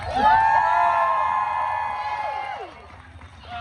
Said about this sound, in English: you guys can cheer louder than that if you'd like